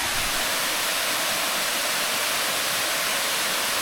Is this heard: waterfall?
yes